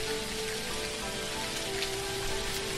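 Steady rain pattering in the Dinkum video game, a dense even hiss of falling drops that fills the whole moment with no voices over it.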